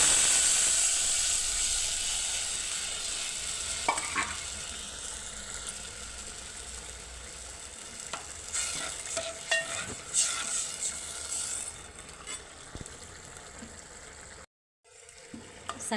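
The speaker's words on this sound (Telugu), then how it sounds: "పచ్చి పులుసు పోద్దాం ఇందులో" Raw tamarind broth goes into a simmering brinjal curry, producing a close, continuous hiss and sizzle with scattered bubbling bursts and splashes. A brief dropout to silence comes near the end, with no voices.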